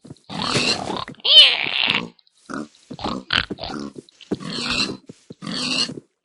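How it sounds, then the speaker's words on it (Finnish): Pigs in the Minecraft video game grunt in a series of short, loud, separate bursts with brief gaps between them, heard alone in a dark forest setting. "Moro sika."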